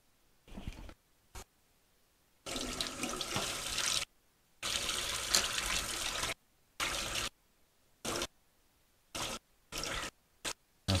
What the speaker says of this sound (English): We'll give this a quick swill under the tap.